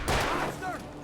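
Gunfire in the video game Alan Wake Remastered: a short, dense burst of loud shots blending into one rough blast, with a faint voice trailing after it.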